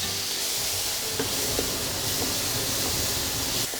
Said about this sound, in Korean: 햄이 빨갛게 바싹 볶아졌으면 이제 썰어둔 김치를 넣고 볶아주세요